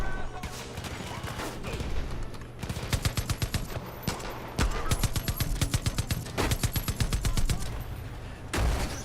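A mounted mountain gun fires in Far Cry 5, with rapid bursts of heavy gunshots in repeated volleys, loud and close against a dense backdrop of game combat noise.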